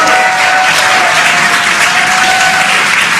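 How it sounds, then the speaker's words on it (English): An excited crowd cheers and claps continuously and loudly as the NASA Crew 9 Dragon Freedom capsule splashes down, a dense, unbroken roar with no pauses. "You can hear the crowd here."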